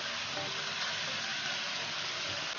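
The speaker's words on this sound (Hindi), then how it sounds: "अब मैं इसमें प्याज ऐड करूंगी" Onions sizzling in a pan of frying chicken masala for chicken cutlets, a soft steady hiss of hot oil that stays even and fairly faint throughout, with no voices.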